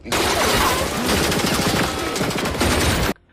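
Gang members open fire with guns in an action film scene, a dense, loud fusillade of rapid overlapping gunshots lasting about three seconds before stopping abruptly.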